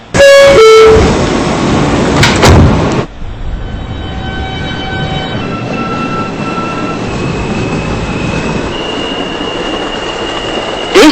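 A Queens-bound New York subway E train rides the BMT Broadway Line, opening with loud door chimes and a screech before settling into a steady, close rumble of wheels on track, with thin squealing tones rising over it.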